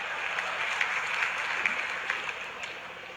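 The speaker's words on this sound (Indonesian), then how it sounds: "Tepuk tangan buat Indonesia." A live audience at a comedy show with Cak Lontong applauds in a steady, dense wash of clapping that holds evenly at moderate loudness throughout the short stretch.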